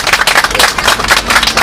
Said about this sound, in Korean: 먼저 박수부터.